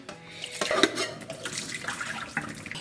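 Cooking water from boiling cabbage splashes and pours in a short burst, trickling and sloshing as if tipped from a pot into a container, with no voices.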